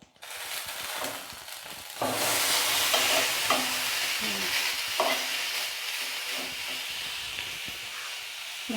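Fish wrapped in banana leaves being turned over in a covered pan on medium gas flame, with scraping and knocking of the parcels against the pan over a steady sizzle and hiss.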